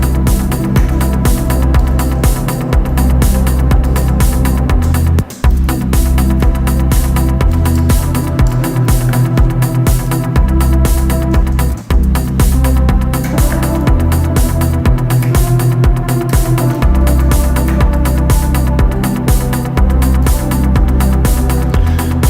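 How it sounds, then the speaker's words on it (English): Anjuna-style pad preset on a Sylenth synthesizer, played in a higher register as a loud, dense, sustained sound with a rhythmic pulse running throughout and no voices. "this legendary pad, for me at least, is the Anjuna pad."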